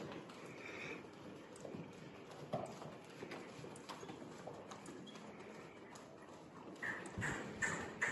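A horse being retrained trots with soft, steady clip-clopping hooves at a moderate distance, faint against a light outdoor background.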